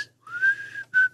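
A person whistles a short melody up close: one long, slightly rising note, a brief pause, then a second clear note.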